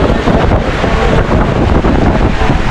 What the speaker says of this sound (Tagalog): Apakalakas na hangin. Tsaka ng ulan.